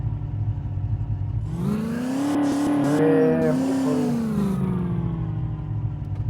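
A 4x4 vehicle stuck and tilted in a video game, its engine droning and revving up into a sustained whine before settling back to a steady hum, loud and alone.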